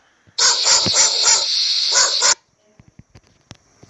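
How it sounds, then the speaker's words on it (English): A dog barks in a rapid burst of about half a dozen sharp, loud barks close by, followed by a few faint clicks and quiet noises. "Dog."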